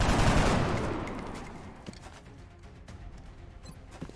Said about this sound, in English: Let's just shoot.